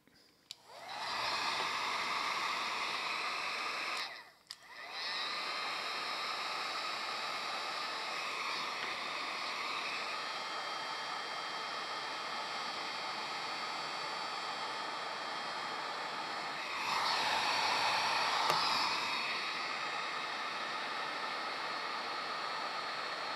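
A steady, loud rush of hot air from a heat gun blows continuously, with a brief dip near the start and a slightly louder surge later, no voices.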